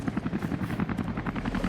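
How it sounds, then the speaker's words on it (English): A Russian helicopter's rotor thumps rapidly and evenly in Rise of the Tomb Raider, a continuous chopping drone at moderate distance with no voices. "There's also a Russian helicopter."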